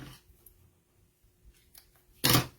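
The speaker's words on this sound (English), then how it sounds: "we're going to cut our twine at 12 inches for this" Scissors snip through twine, cut to twelve-inch lengths for a paper craft kit, in a single sharp, close cut near the end after a quiet stretch with faint handling noises.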